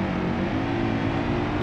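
A powerful tow truck in the driving game BeamNG.drive, its engine droning steadily under acceleration for under two seconds, loud and continuous with no speech.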